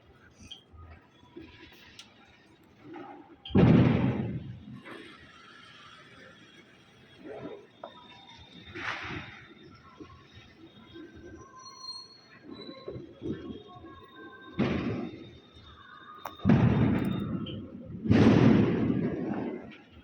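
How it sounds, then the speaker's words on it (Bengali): Firecrackers set off on a nearby rooftop during Diwali puja, several dull booming bursts scattered at irregular intervals over a low background hum, fairly distant and muffled. "ছাদে মনে হচ্ছে বাজি ফাটাচ্ছে"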